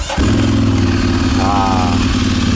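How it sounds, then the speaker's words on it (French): A Ducati Monster 796 twin-cylinder motorcycle with a Termignoni exhaust fires up after a brief moment of quiet, then settles straight into a loud, close, steady throbbing idle. "faut tourner la clé et ensuite on démarre le bicylindre"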